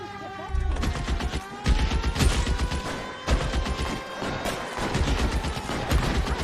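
A heavy shootout in the L.A. Noire crime game, with dense volleys of loud gunshots and rapid-fire bursts coming in waves, close and continuous, with no voices over them.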